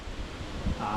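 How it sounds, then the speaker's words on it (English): Strong outdoor wind buffeting a microphone, a low, rough, rumbling roar that surges and gusts over about a second, with no clear speech. "It's really, really windy here."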